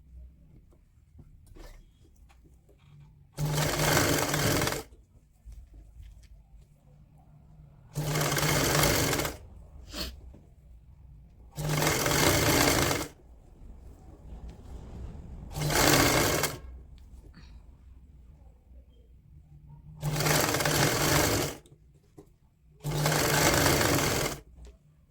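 Sewing machine stitching woolen baby pajama fabric, running in six separate bursts of a few seconds each with quiet pauses between them.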